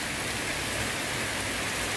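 Afternoon rain pours steadily, a dense, even hiss of drops on surfaces, close and unbroken, with no voices.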